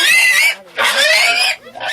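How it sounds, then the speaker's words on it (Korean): Village pigs fleeing a crowd of people during livestock vaccination squeal in two long, loud, harsh bursts, each with a short gap after it, and a third cry starts at the end. "몰려오는 사람들을 보자 눈치 빠른 돼지들이 도망치기 바쁩니다."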